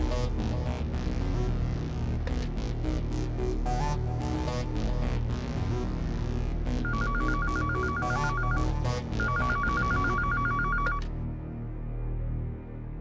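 Outgoing phone call tones: dialing beeps followed by repeated electronic ringback pulses in a steady rhythm, loud and close, ending abruptly, with no talk over them.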